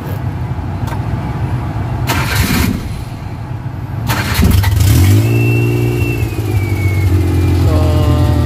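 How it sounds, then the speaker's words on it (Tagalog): A Suzuki F6A engine with an electrical fault is cranked with a few short bursts, then catches and settles into a loud, close idle that rises briefly in revs. "So ang gagawin natin, papandali natin yung makina."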